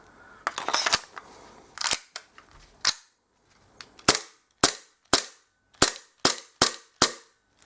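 A Para Bellum P226 gas blowback airsoft pistol fires about a dozen sharp cracks, first a quick irregular cluster, then a slower even series of loud snaps with brief gas hiss, close up.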